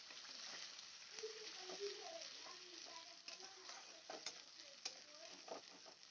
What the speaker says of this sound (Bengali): এবার আমি পেস্ট করে রাখা পেঁয়াজটা দিয়ে দেবো